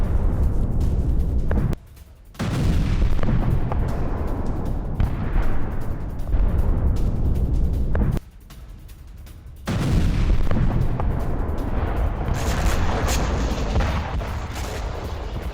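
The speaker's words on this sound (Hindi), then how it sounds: "अवदीविका में यूक्रेन ने JDAM एरियल बॉम्ब से किया हमला।" News footage of a JDAM aerial bomb strike by Ukraine on a Russian base in Avdiivka: loud, continuous booming and rumbling explosions, broken by two brief quiet gaps, with no talk.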